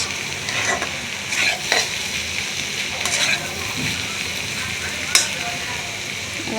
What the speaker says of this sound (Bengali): পাতাকপি, গাজর, আলু সব মিক্স করে একটু ভাজি করবো